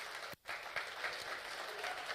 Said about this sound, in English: start this with a big round of applause